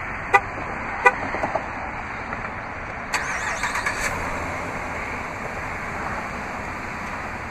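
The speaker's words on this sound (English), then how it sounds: "to activate the remote start is easy, just double press the remote start button on the key fob" A 2011 Jeep Grand Cherokee Overland 4x4 being remote started from the key fob. Two sharp electronic chirps sound first, then a brief horn toot and the soft start of the engine against a steady outdoor background.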